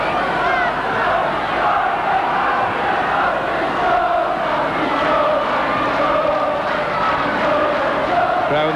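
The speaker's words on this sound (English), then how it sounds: "Gets a cheer from the local crowd" Stadium crowd cheering for Andy Jones at an England v Yugoslavia football match in 1986, a dense and sustained roar from the stands that holds level throughout.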